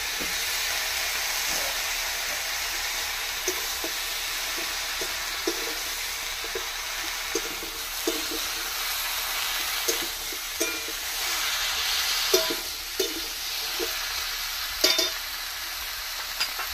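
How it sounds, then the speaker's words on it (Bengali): Mixed vegetables, including bottle gourd stalks, fry in a pan of spiced oil with a steady sizzling hiss, while a spatula scrapes and stirs in regular light knocks every second or so. "সবজিগুলো দিয়ে দিচ্ছি।"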